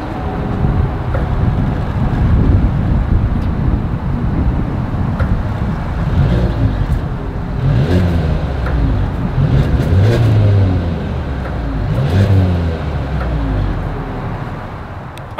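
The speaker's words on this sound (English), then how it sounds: "As always, here is that exhaust clip." Exhaust of a 2022 Mercedes-Benz GLA 250 SUV, a loud, close engine note rising and falling through several revs over a steady rumble, with no talk.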